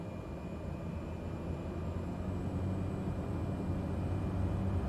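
Airliner engines spooling up to takeoff power in Microsoft Flight Simulator 2020, a faint steady roar that builds slightly over the seconds, with no other sounds.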